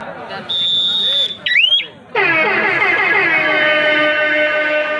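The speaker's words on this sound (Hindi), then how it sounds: "ये हुटर की आवाज है" At a kabaddi match, a loud, sustained electronic hooter horn blares steadily after a brief chirp and tonal beeps, with crowd noise beneath.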